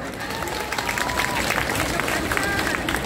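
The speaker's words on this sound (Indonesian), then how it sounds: "Tepuk tangan buat banser." An audience at an Indonesian religious talk in Taipei claps steadily for Banser members, a dense, continuous wash of applause with crowd murmur mixed in throughout.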